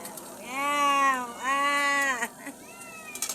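Hungry pet cats meowing loudly and close by, two long drawn-out meows followed by a shorter, rising call, with no talk over them.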